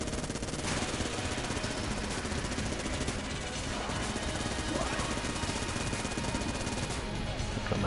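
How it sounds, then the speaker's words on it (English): Rapid, continuous gunfire from a Vulcan cannon in the game Enter the Gungeon, a dense unbroken rattle of shots at steady loudness through the whole stretch, with other game effects mixed in. "let's use up what's left in the Vulcan cannon"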